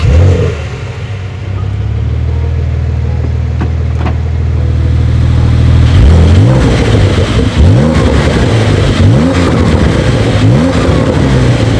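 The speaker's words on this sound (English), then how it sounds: "I'm just super, super excited to now take this car out here on one of my favorite Black Forest roads" A Porsche 911 992.2 with a 500 hp engine and manual gearbox idles, then accelerates hard on a Black Forest road, the engine note climbing through rising, repeated revving sweeps, close and loud.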